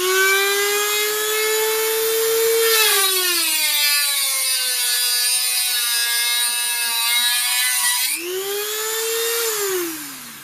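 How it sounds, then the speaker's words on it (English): A Dremel 300 rotary tool at full power cuts through a steel framing nail, a loud high whine that drops in pitch under load, holds a strained grinding tone, then rises again as the cut frees up. "We're just going to see how long it takes to cut it off at full power."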